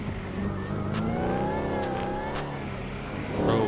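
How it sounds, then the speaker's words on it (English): A BMW M5 engine revs and accelerates in GTA 5, a loud continuous drone with climbing, sweeping pitch and a brief surge at the end. "That BMW is fast. I mean, that's an M5."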